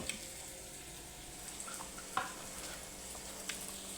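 Cooked rice is stir-fried in a pan, giving a faint, low sizzle with soft scraping and stirring sounds and a few light taps of a utensil against the pan.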